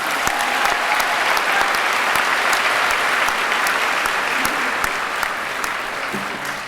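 Full, steady clapping from a big commencement audience, a thick continuous patter of many hands that holds at an even level and tapers a little at the end.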